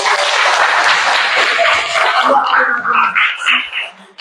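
A classroom group in an Islamic religious education lesson claps together in a burst of applause that fades out after a few seconds, followed by a teacher's voice speaking.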